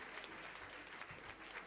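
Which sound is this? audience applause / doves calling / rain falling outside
audience applause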